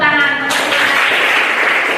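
Classroom applause from a group of students, a dense burst of clapping that starts abruptly and carries on steadily at close range, with a voice briefly heard at the start.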